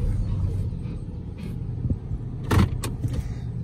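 A 2005 Nissan Frontier pickup rumbles over bumpy ground, its low engine drone steady beneath rattling cab noise and a few sharp knocks and jolts near the end.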